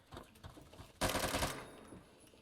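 AN-94 assault rifle firing in a video game: a sustained burst of rapid automatic gunfire for about half a second, loud and close, following a few fainter scattered shots, with no talking.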